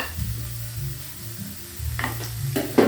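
Chili, galangal, tomato and bay leaves stir-fry in a hot pan, a low sizzle broken by a few scraping stirs and brief clinks of a utensil against the pan near the end.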